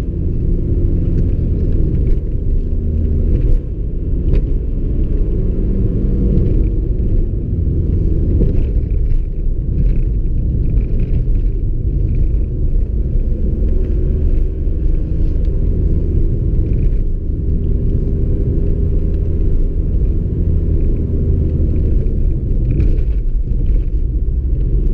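Inside a remapped Audi A3 8L 1.9 TDI, tuned from 90 to about 155 hp, a loud, steady low rumble of engine and tyres fills the cabin on a bumpy road, with no talking.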